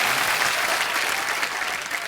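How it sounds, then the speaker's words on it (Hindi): Loud, dense studio audience applause on a Hindi TV comedy show, a steady wash of clapping throughout with no break. "सुगंधा के लिए जोरदार तालियां आ जाए यार."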